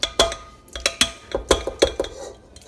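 Flour is being stirred into pretzel dough in a bowl, a utensil clinking against the bowl in a steady rhythm of about eight sharp, close strokes with no talking.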